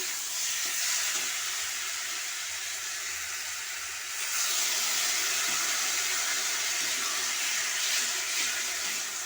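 Pointed gourd and potato pieces sizzle steadily in a frying pan for a fish-gill curry, a dense broadband hiss with soft stirring scrapes that swells louder about halfway through, with no voices.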